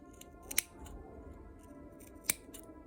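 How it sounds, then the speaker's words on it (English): Sharp snips trimming the fabric of a sleep mask, two crisp distinct cuts with faint handling between them, close and quiet. "This is where you need really sharp snips."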